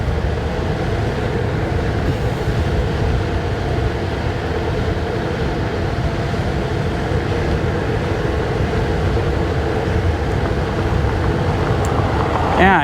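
Segway ZT3 Pro electric scooter ridden along a street at about 25 mph, giving a steady, loud rush of wind and road noise with a low rumble throughout, unbroken and close.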